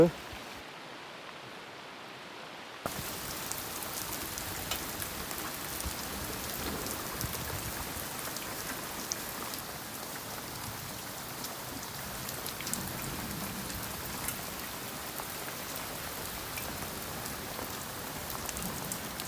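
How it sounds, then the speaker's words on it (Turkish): Heavy rain pours down steadily over a garden, a dense hiss of drops that starts abruptly after a quieter opening and continues loud and unbroken throughout. "Çok felaket yağıyor. Muhteşem yağıyor. Öyle birden bastırdı."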